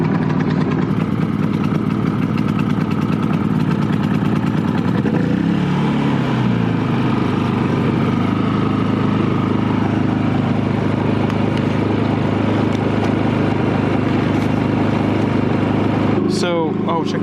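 A portable camping generator at a dry-camping rally hums at a steady mid-pitched idle throughout, close and fairly loud, the tone dropping slightly as it shifts to economy mode, with a brief clatter near the end.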